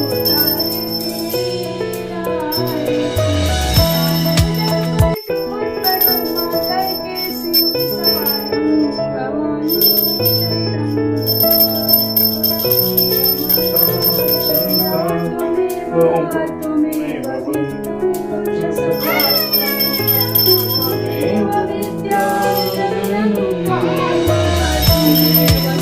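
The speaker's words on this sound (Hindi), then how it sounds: "बाबू को मैंने घंटी दे दिया तो वो अच्छे से बजा रहा था।" Small brass hand bell rung steadily through a Navratri puja, its bright tinkling running continuously alongside a sung devotional aarti with accompanying music.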